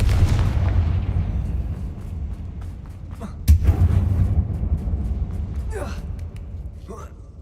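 A Confringo fire spell blast in the Hogwarts Legacy video game bursts out with one sharp, loud impact that dies into a rumbling roar, set against steady low game ambience and a few distant whooshes.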